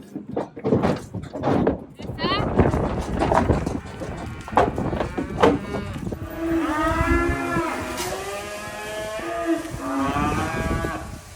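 Freshly weaned cows bawling from the next pen over, several long drawn-out moos overlapping in the second half, preceded by a person talking over softer moos and farmyard noise.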